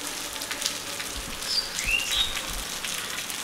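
Rain falling steadily outdoors under a cloudy sky in a rural yard, a soft continuous patter with scattered drop taps, a few faint bird chirps near the middle, no voices.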